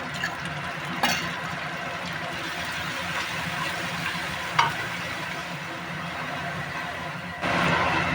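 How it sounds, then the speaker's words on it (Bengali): Ginger-garlic paste fries with browned onions in a pan for an egg curry, giving a steady close sizzle with occasional scrapes and clinks of stirring. "আদা রসুনটা আমি 1 মিনিট মতো নাড়াচাড়া করে নিয়েছি।"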